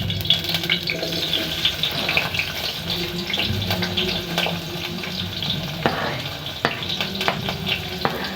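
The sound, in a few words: onions frying in cooking oil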